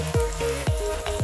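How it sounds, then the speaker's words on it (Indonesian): Intip rice crackers fry in hot oil, a close, steady sizzle broken by a few soft rhythmic thumps, with no voices. "Proses menggoreng intip hanya bisa dilakukan oleh anak bungsu Pak Sukiman."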